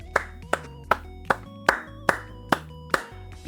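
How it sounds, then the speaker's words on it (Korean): Eight crisp hand claps sound at a steady, even pace, each sharp and close, spaced roughly half a second apart over a faint low musical backing. "박수."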